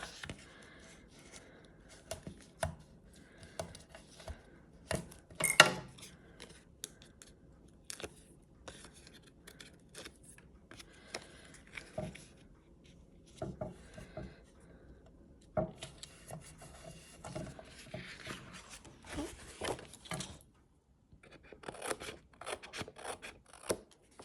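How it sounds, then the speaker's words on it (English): Scissors trim a paper piece for a scrapbook layout with soft, intermittent snips and rustles of paper, close and quiet, with scattered pauses. "I'm going to trim the top piece off that I don't want."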